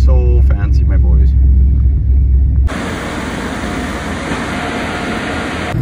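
A car wash in Phoenix switches on abruptly partway through, a loud steady broadband roar of spraying water and machinery filling the rest of the clip after a quieter stretch with voices.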